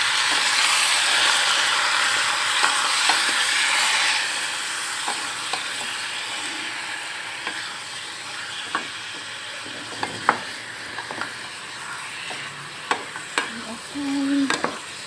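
Liver for adobong atay sizzles steadily in a hot pan while a utensil stirs it, sharp scrapes and clacks against the pan rising out of the continuous frying hiss.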